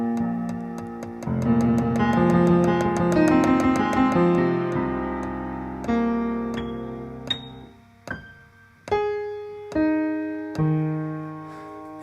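Synthesizer notes triggered through a Max for Live device in Ableton Live, a bright layered chord swelling at first, then single sustained tones struck one after another with clear attacks and slow decays, alone with no voices.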